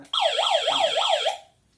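Alarm siren built into an emergency kit radio with flashlight, a loud warbling electronic tone sweeping up and down about four times before cutting off abruptly, close and alone.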